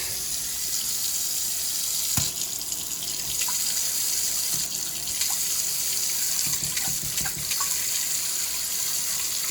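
A kitchen faucet with a newly replaced spray nozzle runs water steadily into the sink, a constant close hiss with occasional light clanks and splashes.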